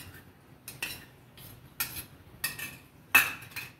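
Spoon clinking and scraping against a bowl while yogurt, grated coconut and ginger are stirred together, in several separate bursts of soft metallic taps close by.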